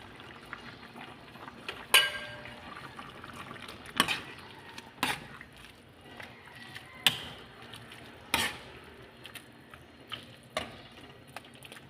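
Cabbage and spring onion stir-fried for lomi in a home kitchen, with repeated sharp clanks of a utensil against the pan every second or two over a low, steady sizzle, close and alone without talk.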